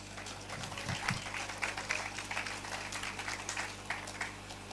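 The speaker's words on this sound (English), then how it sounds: "I thought that would deserve a round of applause" A small audience claps at a university convocation lecture in Awka, Nigeria, a scattered patter of hands that stays fairly faint and steady, with a little low murmuring underneath.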